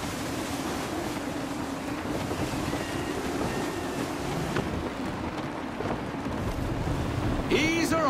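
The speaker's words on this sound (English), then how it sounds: "Gusty winds can be difficult to manage" Gusty wind at sea in Assassin's Creed 3 roars steadily and close, a broad rushing wash mixed with surf and creaking sailing-ship ambience, with brief shouted crew voices near the end.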